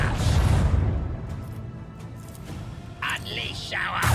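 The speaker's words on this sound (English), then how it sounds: "Initiate macro cannon barrage!" A macro cannon barrage fired from a voidship in the Warhammer 40k: Rogue Trader video game: heavy, rumbling booms crowd the opening second, then a low roar continues, with sharper bursts near the end.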